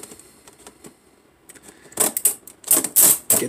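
Scissors snip and crunch through plastic packaging around a McFarlane Twisted Tales of Oz Wizard figure, starting with faint clicks and fumbling, then several sharp, close cuts in quick succession.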